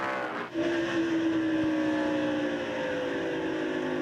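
NASCAR stock cars roar at Rockingham on the final laps, a loud, sustained engine drone with a brief dip as a car sweeps past close by.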